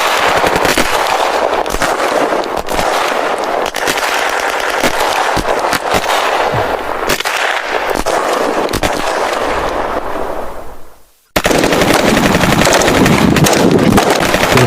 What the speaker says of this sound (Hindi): यहाँ से दूसरी जानिब से जो है यहाँ पे फायर वगैरह आ रहे हैं